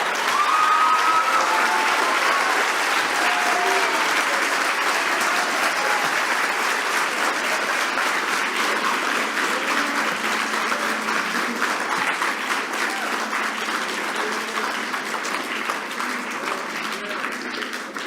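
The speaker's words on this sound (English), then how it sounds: "I'd like to ask you one more time to give a hand clap of praise to God" A church congregation gives a hand clap of praise to God, sustained crowd applause running continuously and fairly loud for the whole stretch, with a faint murmur of voices underneath.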